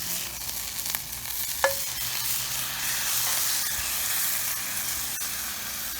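A burger patty fries with a steady loud sizzle on a hot surface while a spatula presses it down and scrapes underneath, a few sharp scraping clicks standing out over the continuous frying hiss.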